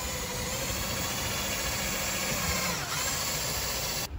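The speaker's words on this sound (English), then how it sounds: "Drilling some holes." Power drill boring holes aboard a boat during battery installation and rewiring, a steady close whirring motor hum with constant vibration, cutting off abruptly at the end.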